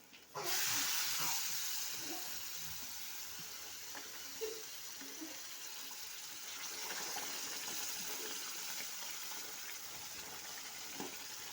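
Water poured into sizzling chicken masala with oil in a hot pan for a village-style chicken gravy, starting with a loud burst of hiss and spitting that settles into a steady, close frying sizzle.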